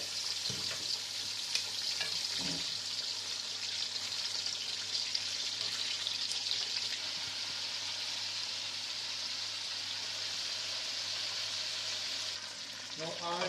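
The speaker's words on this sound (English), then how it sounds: "Now I am going to add meat in it and we will fry it." Meat frying in oil for Shinwari meat gives a steady, dense sizzle and crackle that holds evenly for the whole stretch, close up and with no voices.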